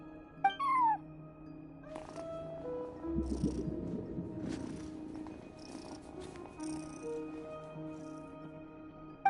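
A cat in the video game Genshin Impact purring softly with a few short meows, quiet and close, over faint game background tones.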